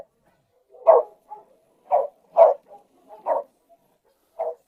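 Dogs bark at feeding time, about six short deep woofs spaced irregularly, close and clear against a quiet background.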